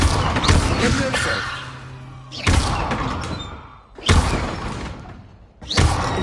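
The Levioso levitation spell is cast in the Hogwarts Legacy video game, producing a series of four sharp whooshing bursts, each swelling and fading, spaced about one and a half seconds apart, with no speech over them.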